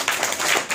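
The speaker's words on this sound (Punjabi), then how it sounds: "ਚਲੋ ਤਾੜੀਆਂ ਮਾਰੋ ਇਸ ਬੱਚੇ ਲਈ" A brief burst of hand clapping from a small group applauding a young schoolchild, a few quick claps over less than a second, with no talk.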